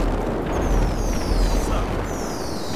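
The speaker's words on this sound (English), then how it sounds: "We're gonna watch the firework, though." Fireworks go off in GTA 5 on PC with real-life mods, a dense rumbling crackle of booms and bursts with faint whistling streaks overhead, loud and continuous throughout.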